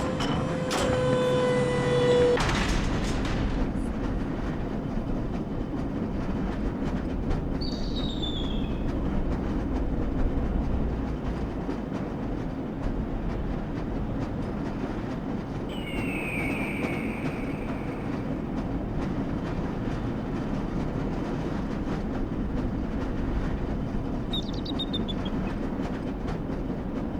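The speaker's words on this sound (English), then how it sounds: "This lever-controlled train will transport you to" A lever-controlled train from the Half-Life video game rolls along in a steady low rumble with rattling clatter, opening with a mechanical start-up whine and later passed by occasional high squeals and electronic chirps.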